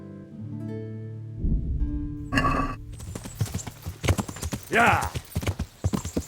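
Horse hooves clip-clopping in the medieval role-playing game Kingdom Come: Deliverance, a rhythmic run of close, crisp hoofbeats with a whinny, heard alongside music and a voice.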